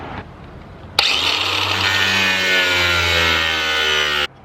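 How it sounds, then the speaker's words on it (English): A saber saw cuts a starter hole in the aluminum roof of a step van, starting abruptly and buzzing loudly and steadily for about three seconds before stopping sharply. "I'm gonna try the saber saw next. I just need to make a starter hole."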